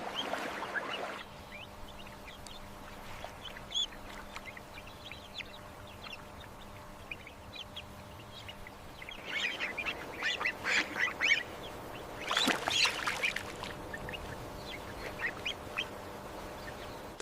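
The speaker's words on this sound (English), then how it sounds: "Then the mother drops to the forest floor and calls from below." Mother wood duck calling from the forest floor below the nest, with soft, scattered duck calls and brief bursts of activity against quiet woodland ambience.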